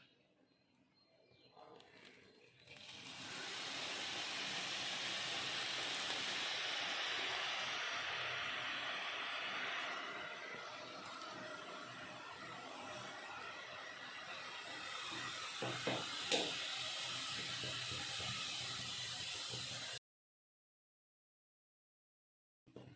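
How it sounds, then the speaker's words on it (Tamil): Besan sev (omapodi) dough pressed into hot oil on a stove at high flame, giving a steady loud sizzling hiss that swells after a quiet start and then cuts out, with no talk. "எண்ணெய் சூடானதுக்கப்புறம் ஸ்டவ்வை ஹை ஃப்ளேமில் வச்சுட்டு ஓமப்பொடியை புழிஞ்சிக்கலாம்"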